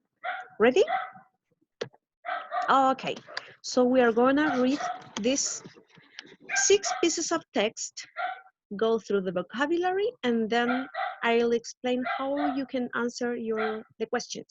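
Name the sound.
neighbor's dog barking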